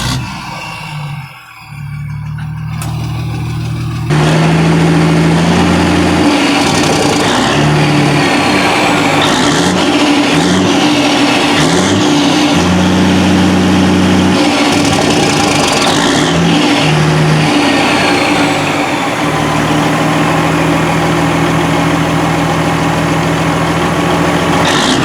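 A 1987 Kenworth T600 truck engine, run after sitting in a field for over 20 years, idles loud and close, with a deep steady rumble and several revs rising and falling across the clip.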